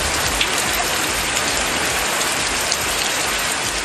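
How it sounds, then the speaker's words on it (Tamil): Moderate rain falls in Rasipuram, Namakkal district, Tamil Nadu, a loud, steady, dense hiss of drops with no break. "இந்த நிலையில் எந்த ஒரு அறிகுறியும் இல்லாமல் திடீரென மிதமான மழை பெய்தது"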